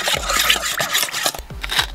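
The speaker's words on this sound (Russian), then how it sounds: "Добавляю свежий молотый перец." A pepper mill grinds fresh black pepper onto fish being prepared for fish shashlik, producing close, rapid scratchy crunching in short repeated twists over about two seconds.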